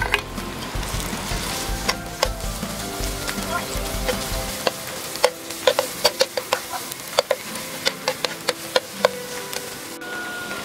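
Crushed garlic fries in a little oil in a pan, a steady close sizzle with frequent sharp spattering pops and crackles, settling into a thinner hiss with scattered clicks of stirring; no one speaks.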